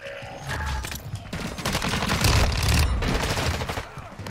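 Dense, rapid automatic gunfire rattles continuously in an online match of Call of Duty: Modern Warfare II, loud and close, in overlapping bursts that swell and fade over several seconds.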